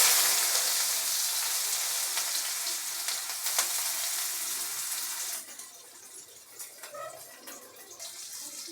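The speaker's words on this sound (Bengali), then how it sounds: "প্রথমে দিয়ে দেবো কড়াইতে কুচনো পেঁয়াজ।" Chopped onion hits hot mustard oil in a wok and sizzles loudly with crackling spits, then the frying settles to a quieter, softer bubbling hiss with occasional pops.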